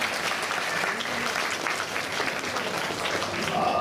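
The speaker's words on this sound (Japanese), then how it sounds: "やるじゃないか、みんな拍手しようぜ" An audience at the Turtle Talk show in Tokyo DisneySea applauds in a dense, steady roar of many clapping hands that fills the whole stretch, with faint voices mixed in.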